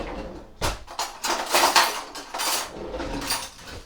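Chicken and prawn paella is stirred in a Cosori Turbo Tower air fryer basket, with several close clattering knocks and scrapes of a utensil against metal, uneven in rhythm.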